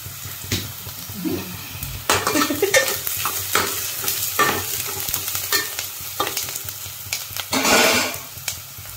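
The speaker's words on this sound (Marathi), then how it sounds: "व्यवस्थित परतून घ्यायचं. आणि आता कांदा शिजलेला आहे." Onions sautéing in a pan for a Malvani clam curry, with a steady loud sizzle and repeated spatula stirring and scraping strokes throughout, close up and with no voices.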